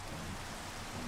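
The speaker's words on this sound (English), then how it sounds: "And it's raining." Steady, even hiss of rain falling in the Minecraft video game, a continuous wash of noise with no voices over it.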